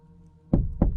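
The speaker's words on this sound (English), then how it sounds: "He's literally knocking" Two hollow knocks on the locked back door of a pickup truck's canopy, loud and close, about a third of a second apart, after a faint background hum.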